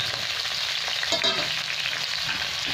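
Potatoes, peas, beans and carrot fry in a pan with a steady, close sizzle that holds level throughout, marked by faint scraping stir sounds and no talking.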